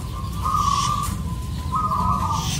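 Perkutut (zebra dove) giving a steady, tonal coo in two long drawn phrases, fairly clear over a low background rumble, with no voices.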